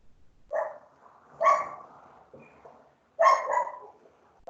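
A dog barks near an agricultural machinery workshop, three or four separate loud woofs spaced a second or two apart against an otherwise quiet background.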